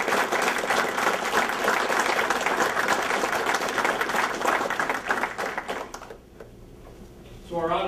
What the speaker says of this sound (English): And if you join me in a round of applause for our field training.